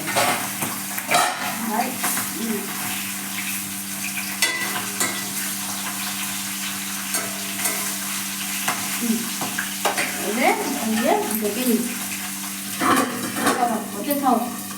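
Fish pieces frying one by one in hot oil in a Bengali home kitchen, a steady bubbling sizzle with stirring and utensil clatter throughout, alongside a persistent low hum.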